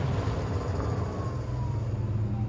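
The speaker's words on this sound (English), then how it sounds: "I hear an ambulance. Hey, or a siren." An ambulance siren wails from the video game As Dusk Falls, a steady descending tone sounding at a distance over a loud, continuous low engine rumble with no voices.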